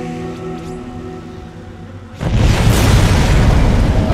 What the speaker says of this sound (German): Loch reingesprengt, ist erfolgreich.